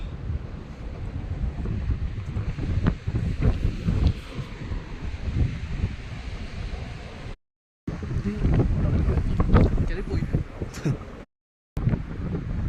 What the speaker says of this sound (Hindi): इतनी तेज़ हवाएं यहाँ पे चल रही हैं